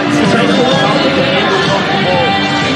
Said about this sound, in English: Huge crowd in the house.